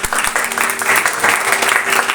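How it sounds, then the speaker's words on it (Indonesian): A church congregation claps together in praise, loud and close, with rhythmic massed hand claps sustained throughout. "Sekarang semua tepuk tangan bagi Tuhan kita"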